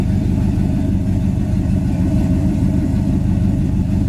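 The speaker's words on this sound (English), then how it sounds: "In my opinion, it sounds just like a GTO should." A 1968 Pontiac GTO V8 with dual exhaust idles steadily and loudly, a deep, even low rumble that holds without revving throughout.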